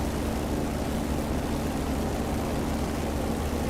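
Propeller-driven WWII warbirds such as Mustangs, Thunderbolts and Corsairs flying near the cliffs of Dover, giving a steady, loud, continuous engine drone with no break and no talking.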